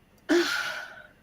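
A single sneeze bursts out with a sharp, sudden onset, then trails off over about a second. It is close and fairly quiet, with no talking over it.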